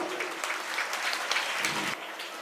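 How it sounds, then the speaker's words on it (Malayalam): An audience applauds at a school annual day celebration, a full, steady crowd of clapping hands that fills the hall, slightly dipping near the end. "ഒരു വലിയ കയ്യടി കൊടുക്കാം"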